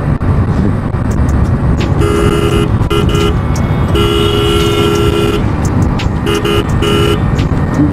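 Loud horn fitted to a modified Hero Splendor Plus motorcycle blares in several bursts over steady road and engine noise, two long blasts and a few shorter toots.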